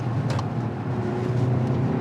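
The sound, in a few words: SUV engine in sport mode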